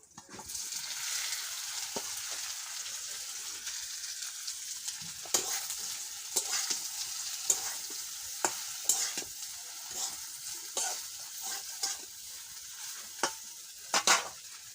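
Bay leaf, dried chilli and panch phoron frying in oil for a vegetarian soybean dish: a low steady sizzle with scattered stirring clicks and scrapes throughout, close and quiet.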